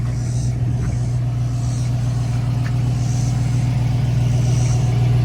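A 1966 Bullitt Mustang engine runs steadily during a test drive, a continuous low rumble with a strong drone beneath lighter road and wind noise, holding a constant level throughout with no talking.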